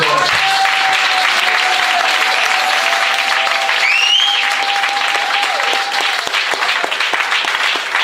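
A church congregation applauding to welcome the patriarch at a worship service, a loud, dense and continuous clapping that fills the room, with a brief whistle-like tone rising partway through.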